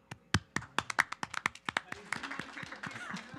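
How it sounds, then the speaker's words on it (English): Brisk, fairly close hand claps from a small city council meeting audience, starting as distinct individual claps and thickening into a denser round before tapering off. "Another applause"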